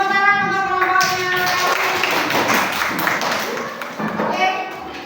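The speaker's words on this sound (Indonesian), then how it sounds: "Beri tepuk tangan untuk kelompoknya." Classroom clapping for a student group breaks out after a brief voice, a scattered burst of hand claps from pupils that fades with some children's chatter underneath.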